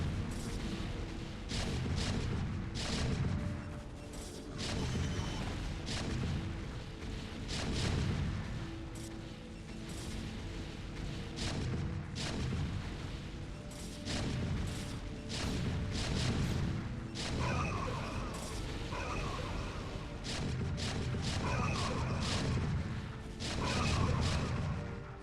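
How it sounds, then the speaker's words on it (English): StarCraft siege tanks firing from high ground on Dragoons, a recurring series of heavy booming blasts and impacts through a busy battle, under a caster's lively commentary. "High ground siege tanks against Dragoons. Siege tanks are going to have a pretty good time with that."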